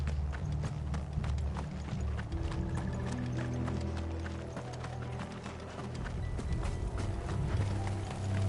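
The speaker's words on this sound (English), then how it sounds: "If those horses touch an hair on Martha's head, I'll kill them all myself." Horses gallop in Final Fantasy XVI, a steady loud stream of hoofbeats under continuous rumbling, with no speech over it.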